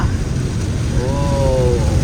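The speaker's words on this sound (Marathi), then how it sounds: "काय पाऊस येतो यार, डेंजर" Heavy rain hisses loudly and continuously, a dense, unbroken wash of noise with a brief faint tone rising partway through.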